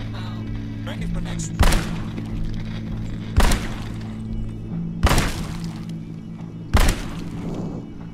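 Four loud, sharp sniper rifle shots fired at zombies in the VR game Arizona Sunshine, evenly spaced about two seconds apart, each a hard crack with a short tail over a steady low hum.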